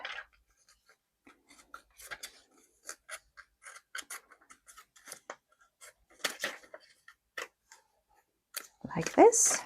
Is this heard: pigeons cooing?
no